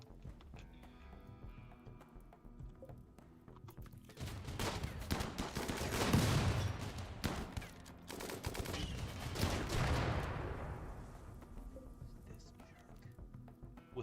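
Video game combat from Rimworld with turret gunfire and incendiary launcher fire, a dense burst of rapid shots and blasts building over several seconds, loud and overlapping, with a voice talking over it.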